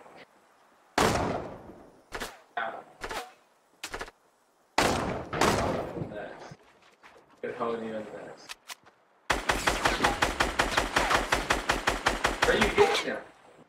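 Fortnite gunfire in a duos battle royale match: scattered single loud shots, then a long rapid burst of automatic fire, close and sharp, with players talking in between.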